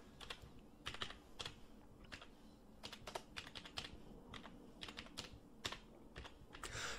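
Keys clatter on a computer keyboard in quick, irregular bursts of close, crisp taps, typing a vendor's name into a form in home finance software, with short pauses between runs and no talk.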